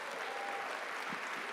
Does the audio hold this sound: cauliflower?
no